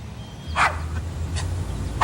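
Dog barking, a few sharp, separate barks spaced across a quiet, low background, moderately near and without voices.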